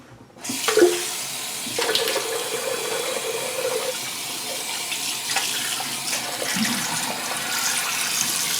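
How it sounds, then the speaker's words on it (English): Razor rinsed under a running tap at a bathroom sink during a wet shave with a Gillette Pure or Parker 69CR safety razor: a steady close stream of water pours continuously, with brief clatters and splashes as the razor is moved under it. "Let me just do a quick rinse."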